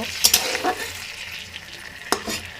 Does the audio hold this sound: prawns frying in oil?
yes